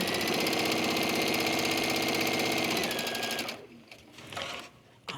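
A sewing machine stitches a quilt block with a steady, fast mechanical whir for about three and a half seconds, then stops abruptly, leaving only faint handling noises.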